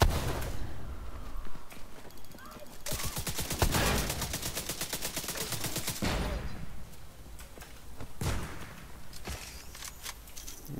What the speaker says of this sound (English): I'm gonna run out of my turret.